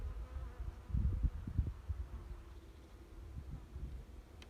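Bees hum in a low, steady drone, close and quiet, with a few louder thumps and rustles near the start.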